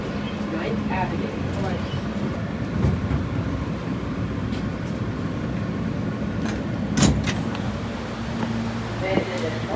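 An F subway train runs along the D line near 9th Avenue, bound for Stillwell Avenue, with a steady low rumble of wheels and rail throughout and a few sharper clanks, while speech is heard.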